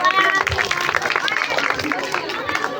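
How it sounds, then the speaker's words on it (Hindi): A crowd claps steadily at a Shri Vinayak Public School Republic Day function, dense applause running throughout with voices and background chatter mixed in. "एक बार जोरदार तालियां"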